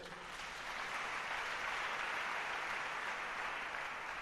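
A church congregation claps together in a dense, steady wave of applause filling the hall, sustained without a break from start to finish.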